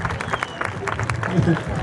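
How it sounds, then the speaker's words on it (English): A crowd applauds steadily at a lumberjack show at a spring fair, clapping blending into a dense wash of noise with some voices mixed in. "Give a nice round of applause for this young man."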